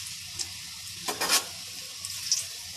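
Chopped garlic dropped into hot oil with fried dried red chili for a Bengali okra dish, a low steady sizzle with a brief louder hiss and spoon clinks in the middle.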